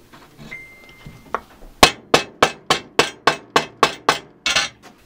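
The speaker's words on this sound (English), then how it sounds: "Just take this rubber hammer and" Ten or so sharp, evenly spaced knocks of a rubber mallet striking a hard metal part during a Dodge Caliber SRT4 4B12 engine timing chain installation, loud and close, after a few quieter taps.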